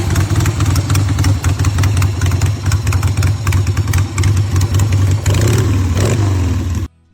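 A Harley-Davidson Ironhead XLX motorcycle engine runs loud and close, a steady, lumpy old-school rumble with a brief rev near the end before it cuts off abruptly.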